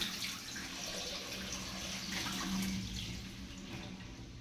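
Tap water runs steadily into a sink as hands are washed, a continuous close splashing hiss with no breaks.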